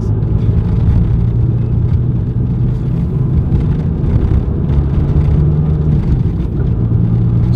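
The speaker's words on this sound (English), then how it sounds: "I'm going to do for you guys is show you how this exhaust sounds inside of the car." A 2017 VW MK7 GTI with a Corsa performance exhaust heard from inside the cabin while cruising in fourth gear, a steady low drone and rumble, loud and even, with faint air-conditioning wind behind it.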